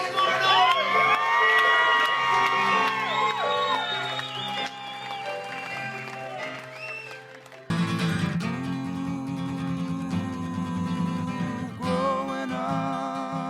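Crowd at a live show for a performer named David roars, cheers and whoops over loud music that shifts to a heavier, bass-driven section midway, with shouting voices throughout.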